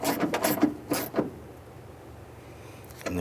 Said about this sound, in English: going to go ahead and snug this bolt down